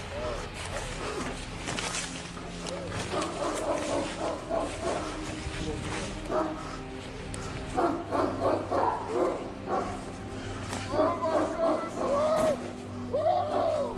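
Dogs bark repeatedly from a played video, sharp yaps and barks scattered irregularly over a noisy background while voices talk.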